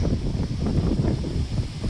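Gusty mountain wind blasts the mic amid foggy, cold weather and dense plants in Tanay, Rizal, a loud, continuous low roar with faint rustling, no talking.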